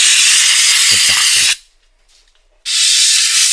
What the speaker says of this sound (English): I might spray the outside of it on the side.